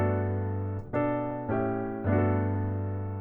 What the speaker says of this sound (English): We could strum this like crazy if we wanted it to sound something like this.